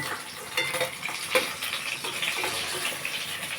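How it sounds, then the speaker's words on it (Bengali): Fish pakoras frying in hot oil, a dense, steady bubbling sizzle with small crackles and pops throughout, close and moderately loud with no voices. "টেস্টি পকোড়াগুলো সুন্দর করে ভাজা হয়ে গেছে এবার তুলে নেবো"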